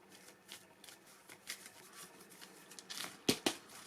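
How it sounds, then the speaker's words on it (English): Cards are shuffled by hand with soft riffling swishes that build to a few sharp, crisp snaps near the end, close and quiet, with no talking. "let's just do a quick little shuffle"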